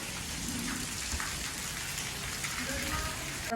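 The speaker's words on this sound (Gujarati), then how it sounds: "આજ પાછો વરસાદ છે." Rain falls steadily and close by in a continuous, even hiss of drops hitting surfaces.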